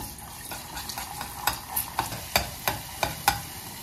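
Pepper paste sizzles in hot olive oil in a saucepan, a soft steady fry with repeated clinks of a spoon stirring against the pan, close and fairly quiet.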